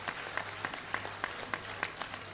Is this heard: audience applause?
yes